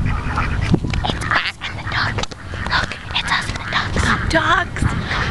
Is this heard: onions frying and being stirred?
no